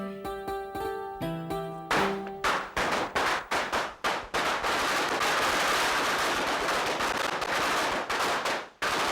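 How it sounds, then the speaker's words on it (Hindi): A rapid string of Diwali firecrackers bursting in the afternoon, sharp cracks in quick succession building into a dense, continuous crackling roar before cutting off. "ये दोपहर को पटाखे कौन फोड़ रहे हैं?"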